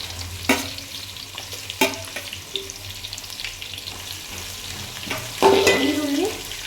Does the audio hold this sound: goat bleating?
no